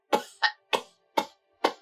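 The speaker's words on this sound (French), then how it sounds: "Maman, je ne fais que tousser depuis hier nuit." A woman coughs five times in quick separate bursts, close and fairly loud, with brief silences between each cough.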